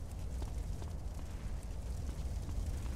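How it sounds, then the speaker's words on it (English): A flamethrower in GTA: San Andreas roars as a steady, low, crackling whoosh of fire, fairly quiet and continuous throughout. "And I got a flamethrower."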